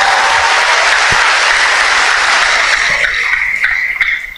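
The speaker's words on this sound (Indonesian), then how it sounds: "boleh juga tuh tepuk tangannya keren tuh" Students at a public economics lecture with Finance Minister Sri Mulyani break into loud, dense applause that stays strong, then thins into scattered claps near the end.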